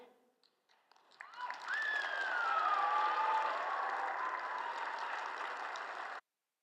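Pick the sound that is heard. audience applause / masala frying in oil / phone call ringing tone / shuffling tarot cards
audience applause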